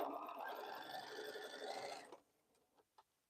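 A sewing machine stitches quilt pieces together in a quiet, close, rapid whirring run lasting about two seconds, then stops, followed by a few faint clicks and taps.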